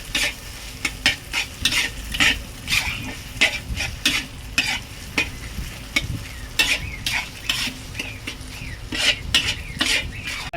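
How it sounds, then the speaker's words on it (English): A mala noodle sauce base with salt and sugar fries in a pan while being stirred. Sizzling continues throughout under repeated rhythmic scrapes and clinks of a utensil against the pan, close and fairly loud, with no talking. "Then you fry again."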